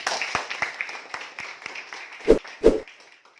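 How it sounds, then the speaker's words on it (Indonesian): Audience applause during an Islamic religious lesson: scattered, light claps that build into two louder bursts near the end, with no voices over them. "Aplaus semua yuk."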